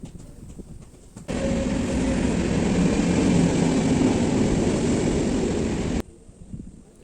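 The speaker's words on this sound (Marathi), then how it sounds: "आता ट्रेन आलेली आहे बघा," A train passing beside a lawn during morning yoga: a steady, loud rumbling roar rises abruptly, holds for about five seconds, then cuts off, with quieter outdoor ambience before and after.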